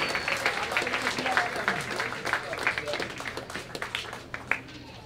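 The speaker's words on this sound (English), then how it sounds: "Can we get a round of applause for Mr. Mike McCarthy" Applause from a crowd at a high school athletic hall of fame induction, a steady wash of clapping that carries on for several seconds at moderate loudness.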